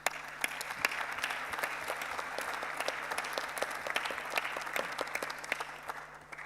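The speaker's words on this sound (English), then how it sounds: "they also deserve our warmest round of applause" Warm applause from a conference audience, fairly quiet and roomy, continuous clapping with scattered sharper claps and no speech over it.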